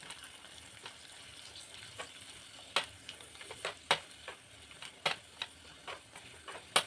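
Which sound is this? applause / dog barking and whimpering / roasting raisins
roasting raisins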